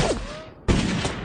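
A single loud, close gunshot crack erupts suddenly in a Turkish-dubbed western film, following a quieter stretch with a faint tonal sound before it.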